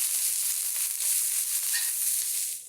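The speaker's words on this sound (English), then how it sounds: "Okay, the stir fry is kicking in." Shredded green cabbage stir-fries in a hot pan, giving a steady, fairly soft sizzle and hiss throughout with no talk.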